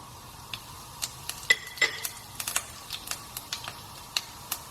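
Chili, cinnamon stick, bay leaf and cumin seeds stirred in hot oil, with scattered crisp pops and crackles of frying spices and light stirring clicks close by.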